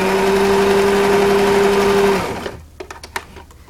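A sewing machine runs steadily as it backstitches over tucked-in ribbons on a homemade fabric dog toy, holding a loud continuous hum before stopping, followed by a few faint handling clicks.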